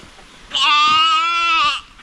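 A goat on its first time outdoors gives a single loud, close bleat that lasts just over a second, with no other sounds around it.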